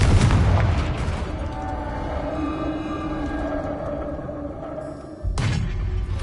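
A Confringo explosion spell cast in the video game Hogwarts Legacy lands with a loud booming blast and rolls into a long, low rumbling decay. A second burst hits close to the end.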